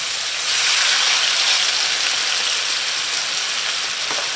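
Steady crackling sizzle of an eggplant omelette frying in hot oil in a pan, close and continuous with no voices.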